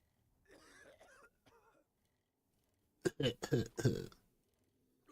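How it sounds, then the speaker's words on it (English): A short burst of rough throat noise, then a cluster of four or five sharp, close coughs in quick succession, followed by quiet. "Oh no, I'm coughing."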